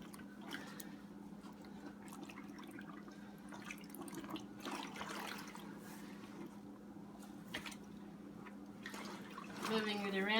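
Water sloshing and dripping as a BJJ gi kimono is soaked and moved around in a bath of dye, with a low steady hum underneath and occasional splashes and trickles.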